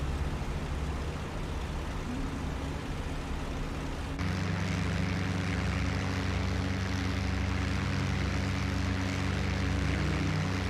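Propeller plane engine in the video game IL-2 Battle of Normandy, a loud, steady droning roar that holds throughout and shifts slightly in pitch partway through, with no talk.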